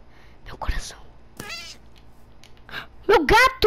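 A cat in the Minecraft video game meows in short, loud, close cries, the last ones bursting out at the end, with people talking and whispering around them.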